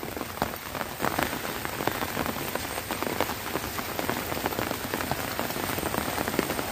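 Steady rain pours down on a kangkung (water spinach) garden, a dense, continuous patter of drops hitting leaves and ground, close and even throughout with no voices.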